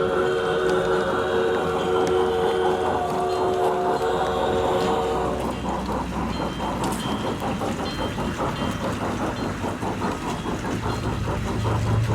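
A garden railroad model train runs on newly laid outdoor track, its rapid rhythmic clatter of wheels and rail joints steady and close, with a motor hum beneath.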